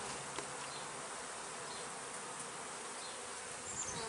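Honey bees from a freshly installed package hive swarm around while being fed syrup, making a dense, continuous buzzing hum that stays fairly faint and even throughout.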